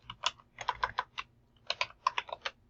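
Rapid keystrokes on a computer keyboard come in two close, clear bursts of clacking separated by a short pause, with no voices.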